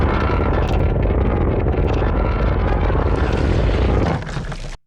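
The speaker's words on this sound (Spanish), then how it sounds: "un helicóptero sale de la nada para rescatarlo" A helicopter arrives in a rescue scene from the 2014 film Godzilla, its engine and rotor giving a loud, steady roar with a thick low rumble that holds throughout, then eases off slightly before cutting out abruptly at the end.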